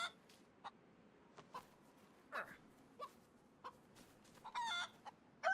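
Chickens and a rooster cluck in the video game DayZ, with scattered short clucks at irregular intervals and a longer burst of squawking near the end, heard fairly close against a quiet background.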